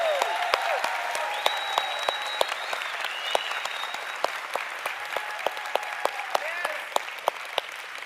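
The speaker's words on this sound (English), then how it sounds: "So a nice round of applause for Meredith Burkich." Conference audience applause, a continuous patter of many hands filling the room at moderate level, with sharper individual claps popping out near the microphone and faint voices underneath.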